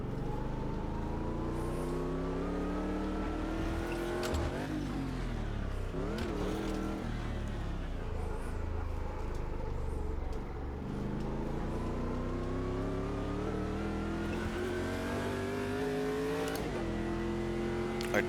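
Stadium Super Trucks racing around the Long Beach street circuit in the sim game Automobilista 2, engines revving loudly and continuously with rising and falling pitch through gear changes, brief tire squeal, and no talk.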